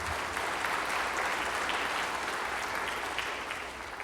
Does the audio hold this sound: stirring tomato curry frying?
no